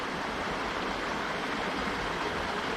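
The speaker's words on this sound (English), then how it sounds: "I love the sound of water" Water flowing steadily somewhere along a forest walk, a broad continuous rushing wash that stays even and fairly loud throughout, with no voices.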